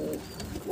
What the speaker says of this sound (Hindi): ये कबूतरी थी और ये अपना काला कबूतर